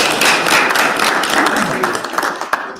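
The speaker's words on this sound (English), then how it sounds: "A round of applause for you." An audience at a business panel gives a short round of applause, a dense wash of close and distant clapping that tapers off after a few seconds.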